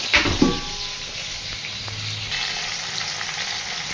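Tomatoes and green chillies hit hot oil with a cumin tempering in a home kitchen pan, giving a steady, close sizzle and frying crackle with a brief louder burst at the start.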